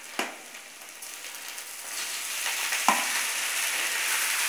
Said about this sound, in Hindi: इसमें चावल डालेंगे।